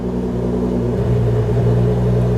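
A Nissan GT-R engine idles with a steady low rumble, then its pitch wavers and shifts as the revs begin to fluctuate, loud and close throughout.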